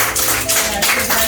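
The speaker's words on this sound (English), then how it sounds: "Clap for the sheets." A group of people claps in a crowd during a charity donation visit to a foster home orphanage, a dense, loud, continuous patter of applause heard up close.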